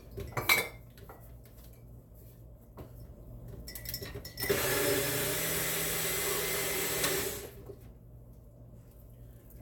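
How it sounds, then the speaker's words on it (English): A kitchen food grinder runs for about three seconds in the middle, a loud steady whir as it chops onion, green pepper and celery. Clatters of dishes and utensils come before and after it. "I'm gonna go ahead and grind it up real good"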